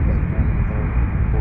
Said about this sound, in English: I think that's our first Alaska departure of the day.